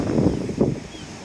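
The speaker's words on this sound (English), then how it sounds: "it is a little bit on the windy side, as I'm sure you've realised" Wind buffets a microphone outdoors by a beach with bathing huts, giving two low, rough rumbling gusts that swell and fade over a steady blustery background.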